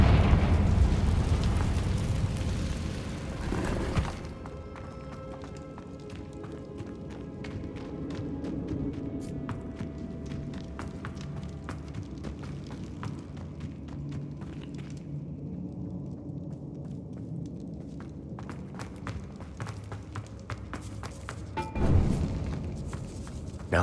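A Confringo fire spell from Hogwarts Legacy goes off with a loud, heavy blast in the opening seconds. A lower, rumbling ambience follows, and a second strong burst comes near the end.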